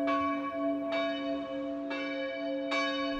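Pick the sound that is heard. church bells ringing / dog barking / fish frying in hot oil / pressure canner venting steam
church bells ringing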